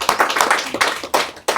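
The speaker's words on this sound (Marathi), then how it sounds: "करेक्ट, एकदम टाळ्या वाजवण्यासाठी." Crowd of listeners clapping at a talk about dairy farming, a burst of fairly close hand claps in uneven waves, fading and surging again twice.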